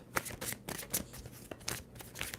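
Tarot cards are shuffled by hand in a series of quick, crisp riffling bursts, close and fairly quiet, with short pauses between each pass and no talking.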